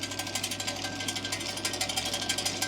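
Household GKP-4-220 pellet mill running steadily while pressing broiler feed pellets, a close, continuous mechanical grinding with a fast, regular pulsing rattle and a steady hum underneath.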